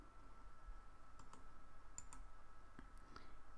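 A few quick, faint key clicks on a computer keyboard entering a command in AutoCAD, scattered taps in small clusters over a quiet background hum.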